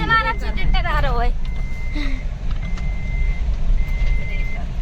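Reversing beeps from a tractor pulling in at a crowded roadside gathering, repeating in short bursts over a loud low engine rumble, with a voice speaking at the start.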